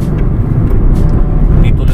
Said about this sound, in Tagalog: Back to normal uli yung daloy ng traffic ngayon.